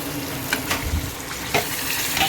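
Mashed vegetables sizzle with spices in a pan for pav bhaji, a steady frying hiss broken by a few soft stirring scrapes, close and even, with no voice.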